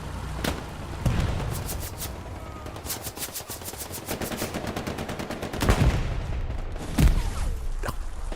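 Gunfire in a 49 versus 49 competitive Hell Let Loose match on Hill 400, with rapid automatic bursts and heavier single cracks in a dense, continuous battle din, some shots close and punchy.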